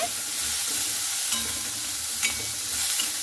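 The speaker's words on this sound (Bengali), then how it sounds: "গাজরটাও খুব ভালো মতো করে এইভাবে নাড়াচাড়া করে নিচ্ছি" Chopped carrot and vegetables stirred in a pan with no oil, a soft steady hiss and sizzle with a few faint scrapes and clicks, close and even, with no voices.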